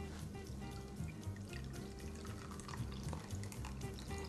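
Citrus juice is poured onto freshly grated zest for a mousse layer, making a faint, close, continuous liquid trickle and splash that lasts a few seconds.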